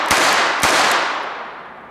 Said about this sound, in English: fire whatever number of shots I'm going to do